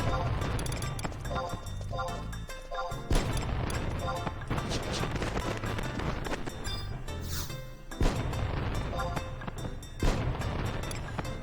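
Fireworks bursting in repeated booming thuds during a Final Fantasy XI summer festival event, loud and dense, with music and a voice talking over the blasts.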